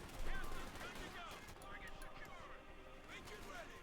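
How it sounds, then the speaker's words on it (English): Rattling bursts of machine gun fire mixed with other gunshots in the World War II strategy game Company of Heroes 2, a steady busy battle din with a caster talking over it. "Still on machine guns for Aerophobic."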